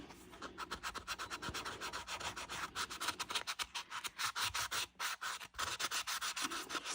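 A thrift store find is scraped by hand in quick repeated strokes, a close, steady, raspy scratching that runs almost continuously with brief breaks and no voices.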